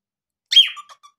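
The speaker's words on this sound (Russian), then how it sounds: "Ты, ты хорошая маленькая птичка, да?" A small pet bird gives a short, bright chirp with a squeaky, whistled edge, followed by two or three fainter trailing peeps, close and alone without talk.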